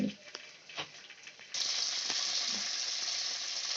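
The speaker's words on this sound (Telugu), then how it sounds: "ఇవన్నీ వేయించుకోవాలి మంచిగా" Coriander and mint leaves fry in a little oil, a steady close sizzle that jumps louder partway through and then holds as a continuous hiss, with a few faint clinks early on.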